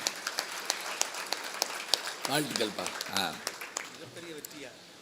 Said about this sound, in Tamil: நல்லா கைதட்டுங்க.